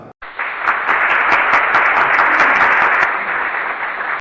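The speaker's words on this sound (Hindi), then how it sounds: "तो तालियों के साथ स्वागत कीजिए केजीएन टेक्निकल के फाउंडर" An audience at an Independence Day programme applauds to welcome the founder of KGN Technical, producing dense, loud, continuous clapping that starts abruptly and holds steady for several seconds.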